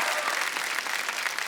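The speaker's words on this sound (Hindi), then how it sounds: "सनी के लिए जोरदार तालियां हो जाए" Studio audience applauding on a Hindi TV comedy show, a dense, loud wash of clapping that runs steadily through the whole short moment.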